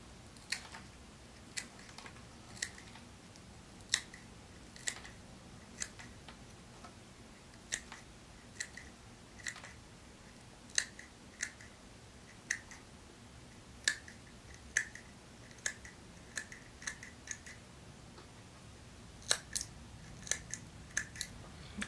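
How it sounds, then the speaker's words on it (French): Scissors snip off excess material while a green salmon fly is tied, giving a long series of small, crisp, close clicks at an irregular pace over a quiet background. "Donc je vais venir pincer ça entre mes doigts ici, venir couper l'excédent."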